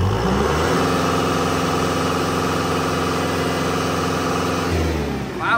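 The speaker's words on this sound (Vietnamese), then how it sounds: "Bây giờ mình lên động cơ mình test thử động cơ nè anh em." A 2020 Kubota M6040 turbo tractor engine runs steadily at idle, a continuous loud close diesel drone with even mechanical throb, holding the same pitch throughout with no voices.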